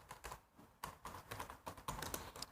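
Quiet typing on a computer keyboard, with irregular bursts of key clicks and short pauses between them, heard close but at low volume.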